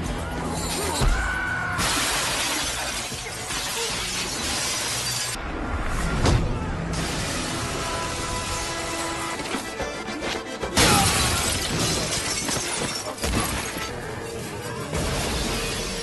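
Glass windows burst loudly and repeatedly as bodies crash through them in a Steven Seagal action movie fight, with smashing shards and thuds under a busy, dense soundtrack.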